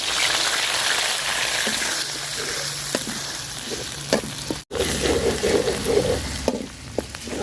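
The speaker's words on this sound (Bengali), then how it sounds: "পেঁয়াজটা আমি সুন্দর করে বাইজা নিচ্ছি" Onion paste frying in oil in a pot for a pangas fish curry, a steady crackling sizzle with occasional soft stirring knocks.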